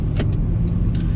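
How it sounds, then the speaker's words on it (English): A Mercedes E400 Coupe sets off, its engine a steady low rumble heard from close range, with a few faint clicks and light rattles on top. "Setting off in the E400 Coupe"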